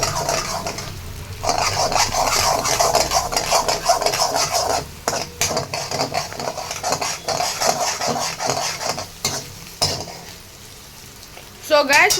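Egg fried rice stirred and tossed in a hot pan, a steady sizzle with scraping and clinking of a utensil against metal, fairly loud and continuous with a few sharper knocks.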